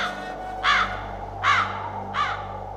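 Old crows cawing, three separate harsh caws spaced evenly apart over a low steady background hum, fairly close and clear with no voices.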